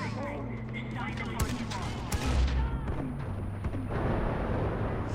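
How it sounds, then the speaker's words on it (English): Grenade launcher blasts in the Far Cry 4 shooter game, several booming explosions and crackling gunfire mixed with a voice speaking over the chaotic combat noise. "I love my grenade launcher."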